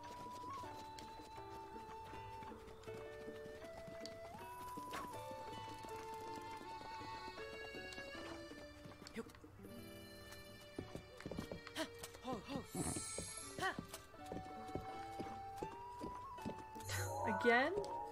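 A horse ridden in Zelda Breath of the Wild clip-clops in a steady trotting rhythm under game music, with a whinny near the end and someone talking over it.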